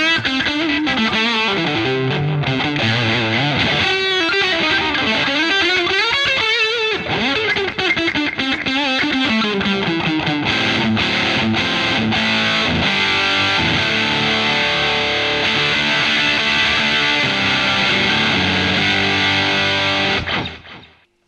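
Electric guitar played through a Boss BD-2 Blues Driver pedal, variant number 2 with boosted mids, giving a loud, continuous overdriven tone with sustained chords and melodic runs that cut off abruptly at the end.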